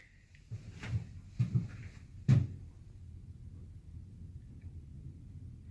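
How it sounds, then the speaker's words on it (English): A wrought iron door is swung shut during installation, giving a few heavy metallic thuds and knocks close by, the last one loudest, then quiet room noise. "Let me close this door all the way."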